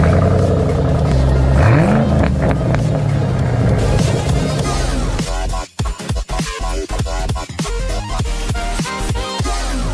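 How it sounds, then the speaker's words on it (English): A lightly modded 2009 Mustang GT California Special with a Flowmaster exhaust, tune and cold air intake at a Mustang Week car show in Myrtle Beach, rising in a loud rev before dropping into choppy, rumbling exhaust pulses. "We have the Bama Tune, the cold air intake, and the Flowmaster exhaust system on it."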